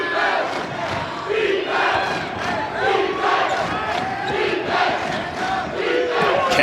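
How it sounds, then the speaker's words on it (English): Saint Mary's Gaels fans roar at a college basketball game in Michelob Ultra Arena, Las Vegas, a loud, sustained crowd din with rising shouts and chants, nearly no individual voices standing out. "Listen to this St. Mary's crowd here at Michelob Ultra Arena."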